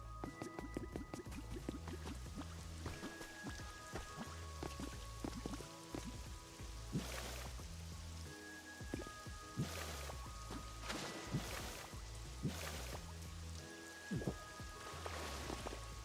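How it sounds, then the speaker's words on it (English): A waterfall in the Pokémon Pokopia video game splashes and patters steadily like rain on a surface, layered with a gentle, repeating game melody and no talk. "The sound of the waterfall you made is so relaxing."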